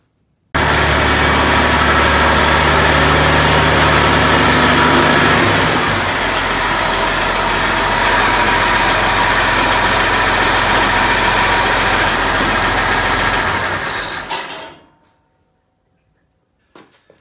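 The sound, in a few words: engine started and idling after fuel tank repair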